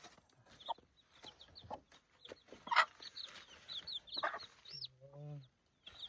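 Native talisayin chicks cheep and peep in short, scattered calls as they move into a newly built coop, with one louder call and a brief low voice near the end.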